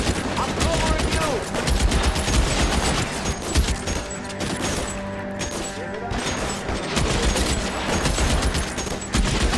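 Heavy machine gun fire and rapid overlapping gunshots during a shootout in LA Noire, loud and sustained throughout with booming impacts mixed in and a voice talking beneath the barrage.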